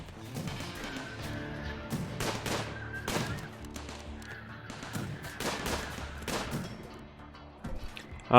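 Gunfire from colonists fighting off raiders in the video game RimWorld, a scattered series of sharp, fairly faint shots and bursts over a steady low game background.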